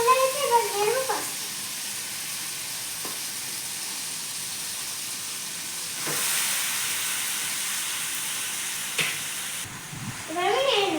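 Pasta with melted tomato and green chilli frying in a pan in a village kitchen, a steady soft sizzle with occasional stirring scrapes, while someone talks briefly at the start and end.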